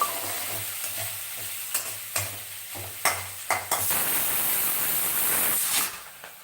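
Telugu curry with peanuts frying in a pan, a steady sizzle broken by a few sharp stirring scrapes and clinks, then a louder continuous sizzle that cuts off near the end, with no talk.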